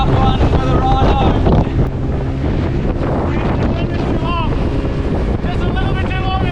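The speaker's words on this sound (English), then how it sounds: "With the wind picking up, it's time to make our dash to dry land" Strong wind roars across the microphone on a small fishing boat heading for shore, steady and loud throughout, with engine and water rush beneath and voices faintly mixed in.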